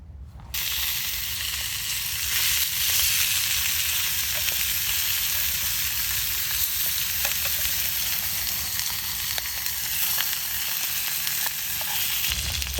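Lamb and mint burgers fry in a pan with a continuous, close sizzle and hiss, joined by faint scraping and stirring clicks.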